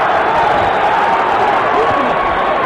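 A dense, loud arena crowd roaring and yelling at the Mike Tyson versus Evander Holyfield II heavyweight boxing match, a continuous wash of voices with no separate words.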